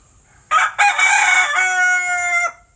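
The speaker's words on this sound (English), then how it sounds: "He's our other chicken." A pet rooster named Jim crowing once, loud and close, a harsh rising call followed by a long drawn-out tone lasting about two seconds against quiet surroundings.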